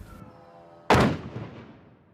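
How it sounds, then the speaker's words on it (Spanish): A single powerful explosion during a Russian drone and missile attack on Kyiv at night, a sudden loud blast that rolls and rumbles as it slowly fades, with a faint tone beforehand. "Esta es una de las tantas explosiones que sacudieron a Kiev la madrugada de este jueves."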